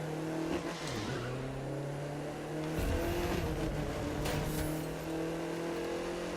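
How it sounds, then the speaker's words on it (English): A car in the racing game The Crew 2 revs its engine, then its tyres squeal as the handbrake throws it into a skid, with the engine tone shifting up and down throughout. "Rip the handbrake again."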